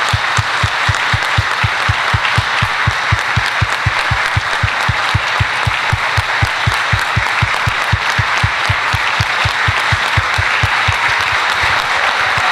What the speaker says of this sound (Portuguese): a gente tem que ser uma salva de palmas para todas essas mulheres